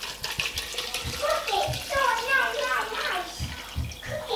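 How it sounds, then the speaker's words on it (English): Water pours steadily from a tap into a container for sea moss gel, a continuous close splashing and gurgling stream with small drips throughout. "then I'm gonna fill some water"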